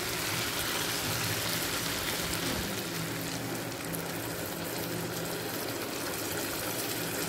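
Water poured into a pan of paneer curry, a continuous close gushing splash that holds at a steady level throughout.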